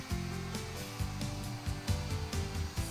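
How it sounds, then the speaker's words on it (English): A plunge router in a mortising jig cuts a mortise in a wooden workpiece, giving a steady close motor whine with a rhythmic, chattering bite as the bit moves through the wood. "Slide the router to the other end of the mortise and drop the router bit down"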